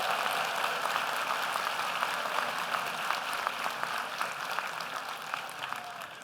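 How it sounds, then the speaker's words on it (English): Steady applause from a large audience of delegates fills a hall at the opening ceremony of the 2024 National Model United Nations in New York, a dense continuous patter of clapping with no voices over it. "thank you for that applause"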